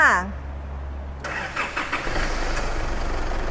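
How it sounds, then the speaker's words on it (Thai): A 2012 Isuzu D-Max Spark S pickup's diesel engine cranks and catches, turning over into a rough, steady rumble after a brief voice at the start. "เดี๋ยวเรามาฟังเสียงเครื่องกันเลยจ้า"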